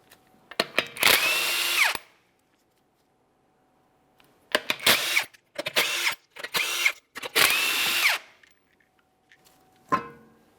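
A power impact tool spins off the 21mm lug nuts from the front wheel of a 2014-2018 Mazda 3 in several loud, close whirring bursts separated by short silences, with a brief final burst.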